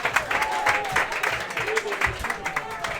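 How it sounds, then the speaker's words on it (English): Ultimate frisbee crowd at the Rising High 2022 High Division Finals cheering and clapping after a great catch, a steady dense wash of applause and shouts with a commentator's voice running over it. "And the crowd loves it."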